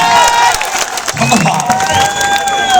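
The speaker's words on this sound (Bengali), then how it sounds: "আমরা একটা জোরে করতালি দেই সবাই" A crowd at an outdoor boxing event beside Dhanmondi's Rabindra Sarobar in Dhaka claps and cheers, a dense, steady wash of applause with shouts rising through it, continuous and close for the whole moment.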